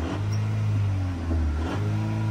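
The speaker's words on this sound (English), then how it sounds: "It sounds like maybe an exhaust leak, or you hear like a raspy kind of noise." A 2021 Jeep Renegade four-cylinder engine, with a possible exhaust leak, idles and revs with a raspy, buzzing drone, a steady low hum overlaid by a harsh rattle, close to the listener.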